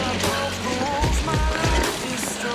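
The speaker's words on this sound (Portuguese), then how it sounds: "Tome chuva. Chuva apertou." Heavy rain pours down on a forest trail near Paraty during a mountain bike ride, a dense, steady hiss of water close by that fills the whole stretch, with a few low thuds from the bike and riders underneath.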